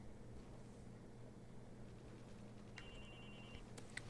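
A telephone rings inside a video game, a short electronic ring heard faintly over a steady low game hum and background noise.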